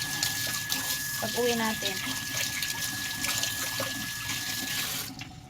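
Tap water runs steadily into a sink while dishes are washed, a continuous near hiss and splash under conversational speech throughout, stopping abruptly near the end.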